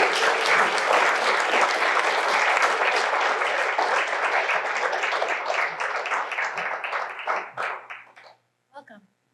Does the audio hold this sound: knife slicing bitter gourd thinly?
no